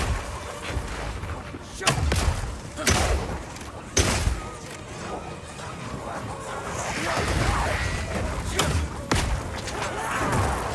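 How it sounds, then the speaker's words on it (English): Oil grenades fired in the video game Path of Exile 2, producing a run of sharp thumping launches and impacts spaced a second or two apart over dense combat noise, with a voice talking throughout. "Firing one of these grenades coats the ground and nearby enemies in oil."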